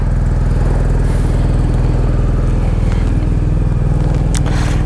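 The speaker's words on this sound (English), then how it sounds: "The bike is ready and warmed up, and yep, let's go." A BMW R1250 GS Adventure motorcycle engine runs loud and steady up close, a continuous warmed-up rumble with no speech over it.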